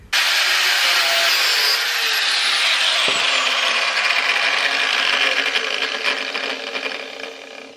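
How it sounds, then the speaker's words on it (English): Power cutting tool biting deeper into metal on a Nissan R32 suspension part being removed, a loud continuous high grinding whine with shifting pitch, close and harsh, fading near the end, no talk. "I need to make that incision slightly deeper, and then that section will ping off"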